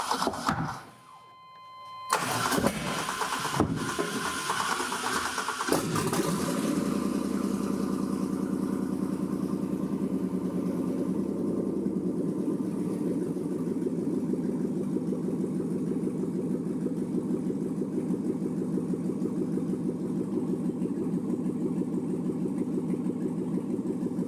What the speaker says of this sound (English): I'm going to get in and start the vehicle